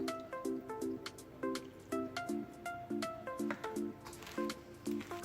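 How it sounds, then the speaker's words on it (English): Soft, wet squishing repeats in a steady rhythm, like sticky dough being pressed and folded by hand, quiet and close. "Now home chefs, we will knead the dough."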